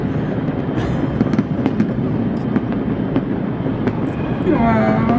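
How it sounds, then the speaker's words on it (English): New Year's midnight fireworks over Makati, Manila, crackle and pop continuously with scattered sharper bursts, a dense rumbling wash from many directions, with faint voices in the background. "The city is really hitting fireworks."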